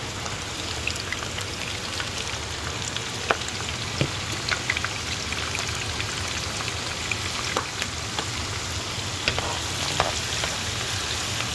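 Onions and garlic frying for steamed dim sum fried rice, a loud, dense, rain-like sizzle with sporadic pops and stirring sounds throughout, no speech.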